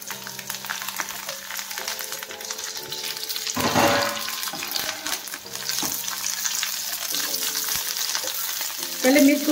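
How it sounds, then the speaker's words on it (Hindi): Green chilies frying in hot oil for chole bhature-style mirchi: a steady, close crackling sizzle runs throughout, surging briefly louder midway as the chilies are stirred, with no talking. "अब मिर्च को डाल देंगे।"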